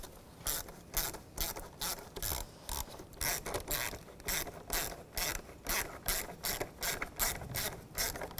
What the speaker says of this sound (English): tighten this worm clamp down